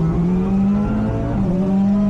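Hyundai i30 N TCR race car launching off the start line of the Čierny Balog hill climb, heard from onboard: a loud, steady engine drone holding pitch with a brief dip, then climbing again.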